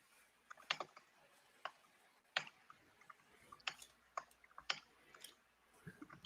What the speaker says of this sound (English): he's typing some words in a script editor of the Yeah. application.